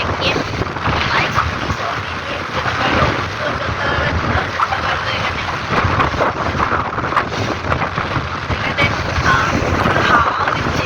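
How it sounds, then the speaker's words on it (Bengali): Strong wind on the beach at Digha, a continuous loud roar of gusts buffeting the microphone with no clear pauses, steady for the whole stretch. "হাওয়াও দিচ্ছে, এত হাওয়া দিচ্ছে, সব উড়ে যাচ্ছে।"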